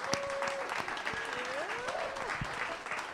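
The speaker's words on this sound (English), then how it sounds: "Please give a hand to Dennis Alcapone and Jazzie B." Audience applause at a Trojan Records tribute listening session: brief, dense clapping that carries on under a voice and some whistling-like tones, fairly faint.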